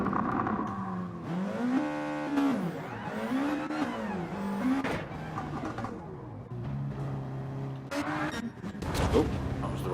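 Race car engines rev repeatedly in a Nissan GT racing video game at Road Atlanta, pitch sweeping up and down in close, loud bursts with whooshes and some brief commentary underneath.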